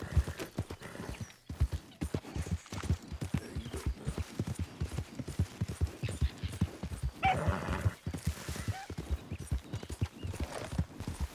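Horse hooves clip-clopping in a fast, steady rhythm in Red Dead Redemption 2, with a sharp neigh partway through, close and clear over a quiet background.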